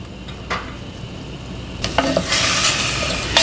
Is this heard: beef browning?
yes